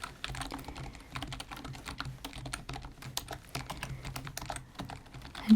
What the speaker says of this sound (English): And you'll just hear me typing along your answers.